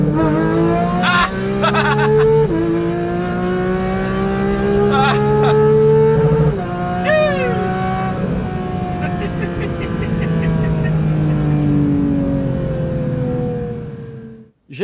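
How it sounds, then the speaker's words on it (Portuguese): A Porsche 911 GT3 with a naturally aspirated engine and a Secret Weapon exhaust revs loud and close. Sweeping tonal pitch rises and falls and sharp gear-change drops carry through nearly fifteen seconds before the sound cuts off. "Gerando toda essa sinfonia, é claro que nós temos aqui um escape da Secret Weapon"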